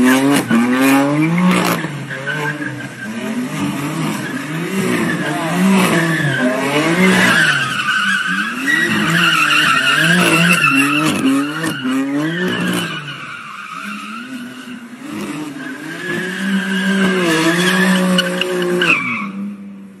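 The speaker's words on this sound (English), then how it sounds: "Now look at this donut." BMW car spinning donuts, tires squealing and skidding in loud, wavering, repeated sweeps over a revving engine for about twenty seconds, close and without talk.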